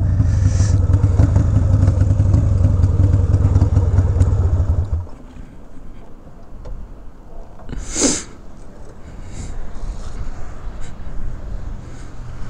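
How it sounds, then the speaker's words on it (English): A Harley-Davidson FXR motorcycle idles close by with a deep, steady rumble for several seconds, then cuts out, leaving faint background noise and a brief sharp burst in the middle. "Will my bike start back up? Literally nobody knows. But it's idling."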